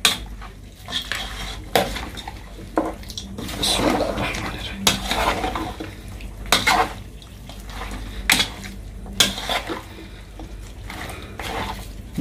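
Mutton being mixed with masala in a pot, with repeated loud scrapes and clanks of a metal spoon against the pot in an uneven rhythm, close by, with wet stirring noise between the strikes.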